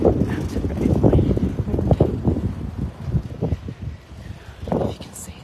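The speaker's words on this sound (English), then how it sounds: "It's a bit windy." Gusts of wind buffet the microphone on an outdoor walk, rumbling low and uneven under people talking.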